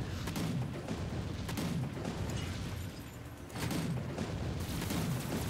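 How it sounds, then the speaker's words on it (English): Cannon fire in the video game Warlander: heavy, repeated booms that merge into a dense, loud wash of battle noise, easing briefly before swelling again. "Yep. Here on the cannon."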